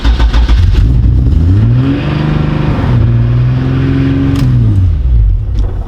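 A race car engine on slicks cranks and catches, then runs briefly with loud, close revving that rises, holds and drops away over several seconds, with no talk.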